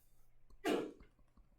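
One quiet, sharp sneeze bursts out briefly in a room during a math review session, then fades, with no talk around it.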